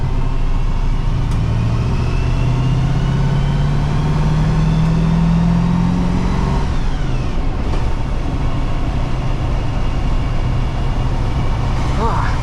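A 1971 Ford Bronco's engine runs with a steady low rumble and a rising tone in the middle, continuous and fairly loud throughout.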